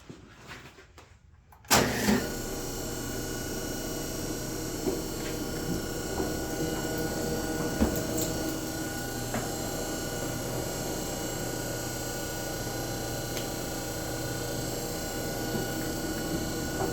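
A 1910 Queen City metal shaper starts up after a short quiet moment, then runs with a steady mechanical hum and a faint repeating clack from its stroke, close and continuous.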